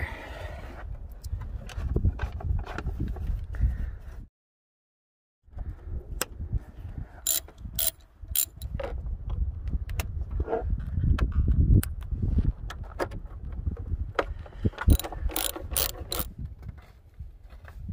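Ratchet wrench clicking repeatedly while removing a throttle body spacer on an Acura TL, close and steady bursts of ratcheting with metallic clinks and brief pauses, including a short silent gap.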